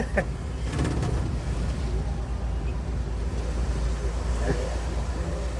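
Bharat Benz truck engine droning loudly and steadily from inside the cab while driving on the highway, a constant low rumble with wind noise and no letup.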